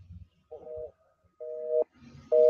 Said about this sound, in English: Oh, his phone's busy.